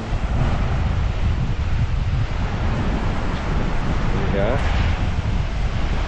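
Strong wind batters the microphone at Teluk Mahkota beach in Sedili, Johor, a loud continuous roar filling the whole clip, with a brief spoken word in the mix.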